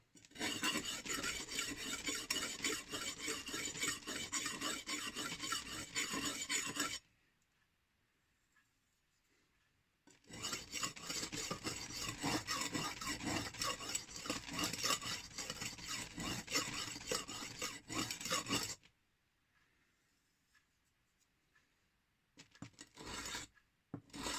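A chipped knife is ground by hand on King whetstones with a dry, rhythmic rasping scrape. Two long bursts of quick strokes are separated by quiet pauses, followed by a few short strokes at the end, close and without speech.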